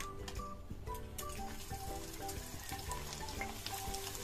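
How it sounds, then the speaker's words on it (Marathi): Rice and wheat-bran fritters frying in hot oil in a kadai give a steady, close sizzle and bubbling crackle throughout, with no talking. "आता आपण त्यात भातवड्या तळून घेऊ।"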